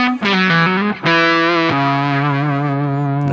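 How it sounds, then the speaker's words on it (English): An electric guitar runs through Amplitube X-Drive diode distortion, playing a few sustained, heavily saturated notes and sliding bends, loud and close with thick harmonics and no talking. "So this is how the guitar reacts to diode."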